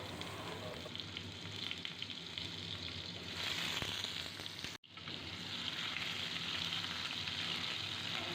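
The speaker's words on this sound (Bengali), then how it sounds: "গ্যাসের ফ্লেমটাকে মিডিয়ামে রেখে আমি আলুগুলোকে নাড়াচাড়া করে 2 মিনিট ধরে ভেজে নেব।" Small halved potatoes fry with whole cumin in a pan over a medium gas flame, giving a steady, close sizzle that briefly drops out once, likely while being stirred, before it resumes.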